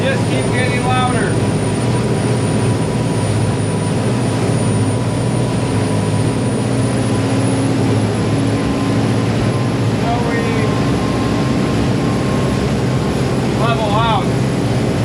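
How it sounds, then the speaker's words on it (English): Old mechanical turbo diesel boat engines drone loudly and steadily under load at cruising speed, a constant low roar with turbo whine as someone talks over it. "you're going to get turbo noise with these old mechanical turbo diesels"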